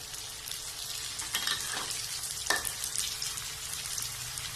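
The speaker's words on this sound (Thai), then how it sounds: "หลังจากนั้นเราก็นำเกี๊ยวลงทอดนะครับ" Wontons deep-fry in hot oil over medium-low heat, a steady close sizzle with occasional bubbling pops and a few brief scrapes of stirring, with no voices.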